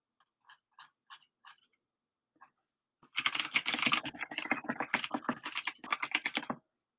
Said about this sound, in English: I have a mechanical keyboard. It's going to be super loud.